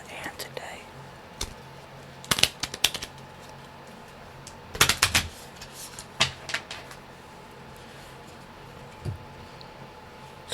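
Chief Malotto Papi promo cards are handled up close, with crisp clusters of tapping, flicking and shuffling clicks separated by quiet pauses, and soft whispering in between.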